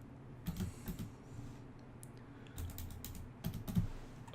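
Someone types on a computer keyboard while coding, quiet irregular bursts of key clicks with short pauses, close and alone with no talking.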